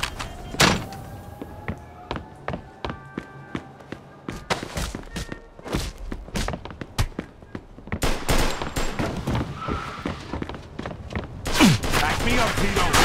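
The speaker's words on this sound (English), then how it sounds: "Stop shooting that fucking thing!" Machine gun fire in Mafia II: rapid trains of sharp, close shots in irregular bursts, with shouting voices and car and door noises mixed in between volleys.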